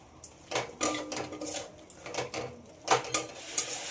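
Pointed gourd stirred with spices in a pan, a spoon scraping and knocking against the metal in uneven bursts over a faint background, with no talking.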